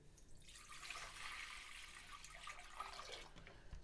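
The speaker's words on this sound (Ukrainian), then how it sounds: "Беремо каструлю, вливаємо в неї воду." Water streams steadily into a saucepan for several seconds, a soft splashing pour that fades out near the end; quiet and fairly close.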